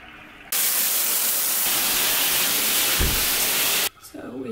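A home shower runs in a loud, steady hiss of spraying water that starts abruptly, holds for about three seconds and cuts off sharply.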